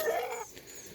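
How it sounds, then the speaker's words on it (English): A rooster's short clucking call, fairly close and clear, fading after about half a second into quiet background. "There's one of my roosters, Marble."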